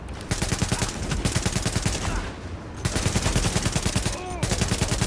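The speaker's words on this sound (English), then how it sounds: "one guy was shooting at me while the other was advancing on me" Sustained automatic rifle fire from the third-person shooter The Division, with loud rapid bursts that briefly pause and then resume over a busy game soundscape.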